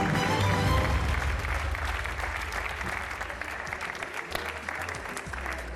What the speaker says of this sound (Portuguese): Um aplauso para o Francisco.